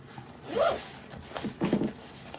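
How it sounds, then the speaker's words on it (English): A sling bag zipper is pulled shut in a few quick, close strokes, a short rasp followed by two longer zips. "If I take them out and zip it back up for you"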